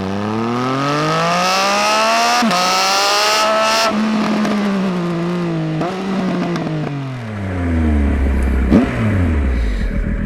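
Triumph Speed Triple 1050 RS 2018 motorcycle accelerating hard, its loud engine note climbing steadily through the revs with brief dips at gear changes, then dropping and rising again near the end, close and alone with no voices.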